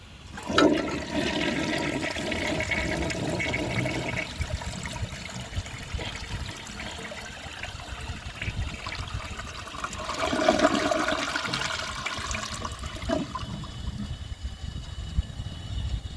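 A 1977 Kohler Highline toilet flushes a dish towel down with a loud, rushing surge of water, then a gurgling refill trickle and a second strong swirl of water later on.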